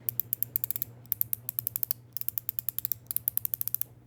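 Rapid bursts of crisp, sharp clicks from a YEDC Ji Li magnetic fidget slider in quick rhythmic runs, close and clean, separated by brief pauses, with a faint hum underneath.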